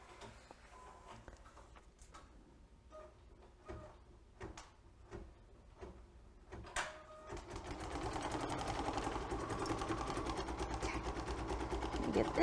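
An embroidery sewing machine stitches the next thread color of an eye mask project, starting with scattered soft clicks and thumps, then settling into a steady, fast, close mechanical whir that runs continuously to the end.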